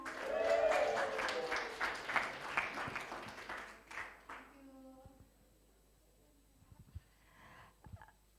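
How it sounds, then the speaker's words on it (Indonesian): Audience applause for a guest speaker at a church Christmas celebration: a burst of clapping from the gathered crowd that fades away within a few seconds, followed by faint scattered sounds and some murmuring. "Tepuk tangan buat Kak Prita."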